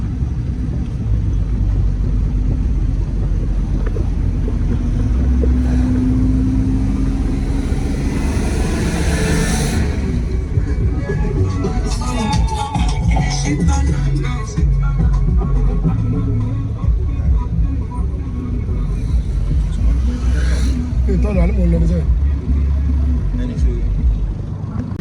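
A Toyota Carina E petrol engine runs with a low, steady rumble under the open hood, while someone talks over it nearby.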